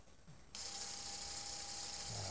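A small DC motor driven through an L298 H-bridge by an ESP8266 board starts abruptly and whirs steadily at close range, a thin high electric whine with a faint tonal hum running beneath it.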